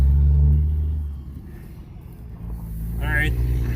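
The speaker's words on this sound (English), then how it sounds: "There goes the milk truck." A milk truck passes on a farm, its engine rumbling loud and low before fading slightly, then swelling again as it drives by, with voices heard over it.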